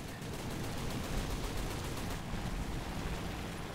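Rapid machine gun fire from a Mitsubishi F1M2 floatplane strafing a half-track in War Thunder, a continuous dense rattling roar of shots held at a steady loudness from start to finish.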